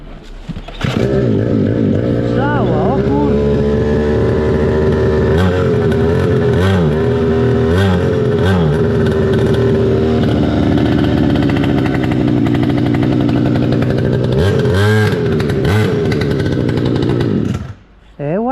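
A mini quad's small engine starts and runs steadily for most of the clip, a loud buzzing drone with revving swells. Voices talk over it before it cuts out near the end.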